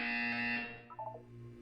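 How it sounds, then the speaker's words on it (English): A single sustained electronic buzzer tone from the Portal 2 video game test chamber, loud and steady for about half a second before cutting off, followed by a few brief descending beeps and a low lingering hum. "You will hear a buzzer."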